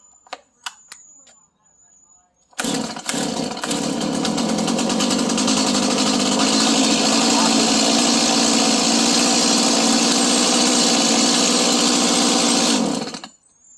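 A Stihl chainsaw gives a few faint ticks and pulls, then fires and roars into a loud, steady run that holds for about ten seconds before cutting off abruptly.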